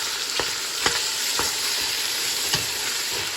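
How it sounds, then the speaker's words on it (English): Italian sausage and ground beef frying in a pan while being broken up and stirred for bolognese, a steady hiss punctuated by a few sharp scraping spatula strokes. "Stir that ground beef, break up the sausage."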